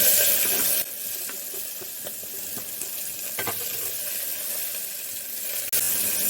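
Finely chopped onion sizzling in hot oil for Kolhapuri misal, a steady close frying hiss with occasional stirring clicks and a sharp jump in loudness as the onion hits the pan.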